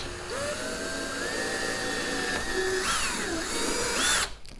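A power drill whines close up while installing navigation gear on a kayak, its motor pitch climbing and dipping as it bites through material, then cuts off abruptly.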